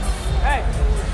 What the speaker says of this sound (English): Crowd buzzing here at Radio City Music Hall.